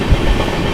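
The 16206 Mysore–Talaguppa Intercity Express rolls along the rails, heard from on board as a loud, continuous rumble with a brief heavy thump of wheels.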